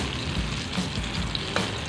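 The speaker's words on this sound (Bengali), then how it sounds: "আর এখানে এখন আমি বেগুন ভাজা বসিয়ে দিয়েছি" Eggplant slices fry in a pan with an even, continuous hiss of oil that stays close and moderately loud throughout, with no talking.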